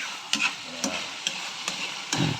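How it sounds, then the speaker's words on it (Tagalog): Marinated chicken with onion and garlic sautéing in a little oil for Filipino adobo, a steady sizzle broken by several sharp scrapes and stirs of the spoon, close and alone. "So, sa ngayon po ay sinasangkot sa ko pa lang ito, no?"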